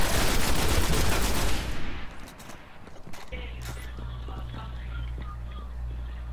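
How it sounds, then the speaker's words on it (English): Dense automatic gunfire from a sci-fi shooter game rattles in a rapid burst, then thins out into scattered shots and clicks over a low steady hum, with quiet talk in the background. "More fucking shooting."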